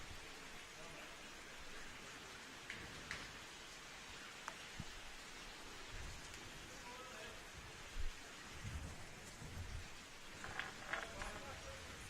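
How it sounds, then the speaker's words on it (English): Heavy rain drums steadily on a cover over an outdoor lawn bowls match, a dense continuous hiss with a few faint distant rumbles that may be thunder, and no clear talk. "Got quite noisy under the cover with the rain belting down."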